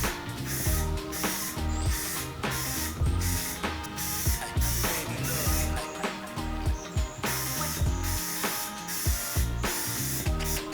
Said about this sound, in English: I'm going to put a total of 3 layers of paint on this thing, and I'm going to be using this paint and primer combination